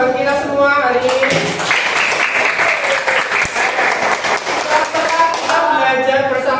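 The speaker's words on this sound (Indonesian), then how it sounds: "oke semuanya, beri tepuk tangan buat kita semua hari ini." A classroom group claps together in steady applause for everyone at the close of a lesson on food chains and ecosystems, a dense, continuous patter lasting several seconds with murmuring voices mixed in.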